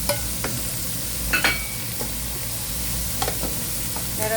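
Aromatics stir-fried with roasted duck and bitter gourd in a hot pan, a steady close sizzle with occasional scraping stirs of the spatula, no talking.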